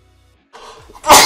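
A single sharp sneeze bursts out loudly and close after a short rustle, during a mobile strategy game session, with no talking around it.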